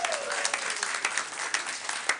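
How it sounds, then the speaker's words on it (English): A temple congregation at an Erev Simchat Torah service claps together in sustained, even applause that fills the room, with no voices over it. "round of applause for Stacy Butler who put our dinner together"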